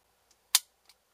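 The trigger of a Smith and Wesson 1911 pistol is pulled dry, giving one crisp, sharp click up close in near silence. Fainter small mechanical ticks come just before and after it.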